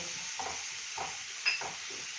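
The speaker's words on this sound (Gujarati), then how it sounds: "હવે આપણે નાખીશું એક ડુંગળી એને પણ આપણે ચોતળી લઈએ" Onion sizzles in a hot pan for biryani, a steady frying hiss broken by several soft stirring scrapes at regular intervals.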